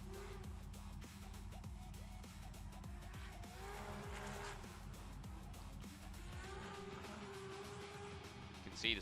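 Drift car tires squeal and scrub through a long slide at Tianma Circuit, engine roaring steadily underneath, the screech rising and falling over the whole stretch, heard from a distance at a practice session.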